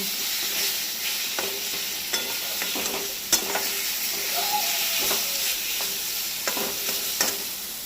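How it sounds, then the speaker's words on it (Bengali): Fried grated coconut is stirred into taro greens in a pan on the stove, with a steady close sizzle and hiss of frying and repeated scraping and stirring clicks from the utensil. "ভেজে রাখা নারকোলগুলো দিয়ে এবার একটু ভালো করে নাড়াচাড়া করে নেব।"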